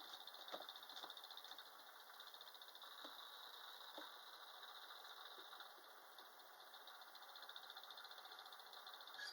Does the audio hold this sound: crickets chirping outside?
yes